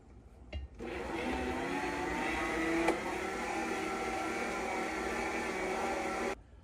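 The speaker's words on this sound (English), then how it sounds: "Then we'll knead it for 10 minutes because we're using a Bosch." A Bosch stand mixer kneading bread roll dough, its motor starting with a click, then running in a steady, close whir for several seconds before shutting off.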